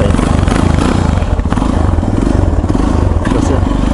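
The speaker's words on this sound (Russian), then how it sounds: "Сейчас я оборотов намотаю ему, чтобы он не заглох." A motorcycle engine running on choke revs hard and close, a loud throbbing, pulsing drone with clattery mechanical noise throughout.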